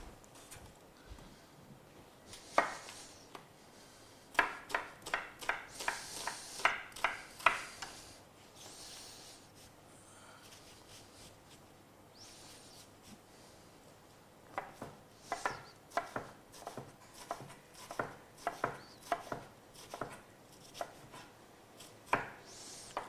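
Two onions sliced with a kitchen knife on a board, rapid close knife strikes in two bursts separated by a quieter pause, no voices.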